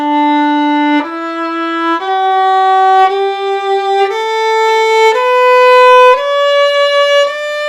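A violin plays eight separate sustained notes, each about a second long, stepping steadily upward in pitch as left-hand fingers move by half tones. The notes are bowed clearly and evenly with no talking.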